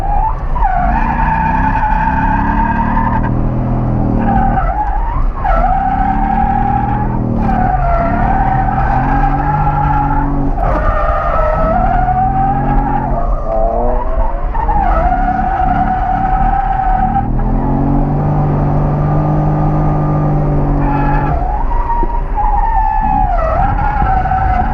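A car drifts on its first day out, tires skidding and squealing in long repeated bursts while the engine revs rise and fall, loud and close throughout with no talk.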